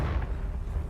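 Confringo blasting spell exploding in Hogwarts Legacy, a short, heavy, low boom with a rumbling burst, close and loud, with no talking.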